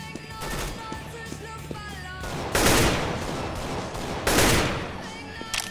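AK rifle fire in a competitive shooter video game, with bursts of shots and two loud broadband blasts standing out above continuous game sounds, close and punchy.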